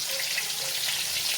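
Shrimp sizzle steadily in hot oil in a frying pan as they are flipped, a continuous close hiss with no talking.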